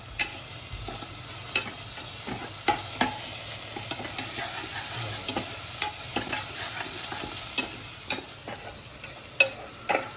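Ginger garlic paste crackles and sizzles in ghee, a steady close frying hiss broken by sharp taps and scrapes of a spoon stirring in the pan.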